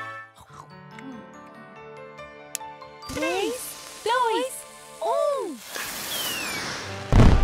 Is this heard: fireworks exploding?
yes